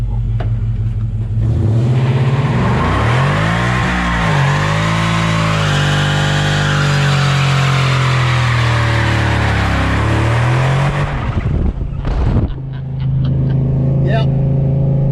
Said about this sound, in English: You think we got to stop here and do a little burnout here